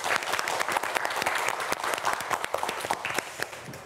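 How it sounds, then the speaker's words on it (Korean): A studio audience bursts into sustained, close applause for a student contestant on a televised science quiz show, the clapping dense and steady throughout. "큰 박수 부탁드립니다"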